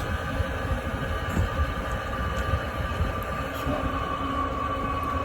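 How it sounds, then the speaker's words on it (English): A Snap-On Polartek Dual auto A/C machine pulling a vacuum on a car's air-conditioning system, a steady low mechanical hum with a faint whine that holds even and continuous throughout. "I'm gonna hit enter, and what it's gonna do is it's gonna vacuum"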